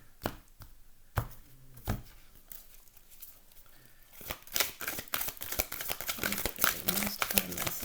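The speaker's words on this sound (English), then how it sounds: "One more shuffle." A few soft, separate card snaps, then a burst of quick, rapid riffling and flicking of cards, close and crisp.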